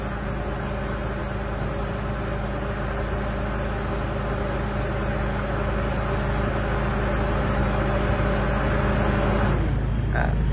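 A steady, low mechanical hum of a bus air conditioner blower on its low setting, with a constant motor drone running evenly throughout, then briefly changing near the end.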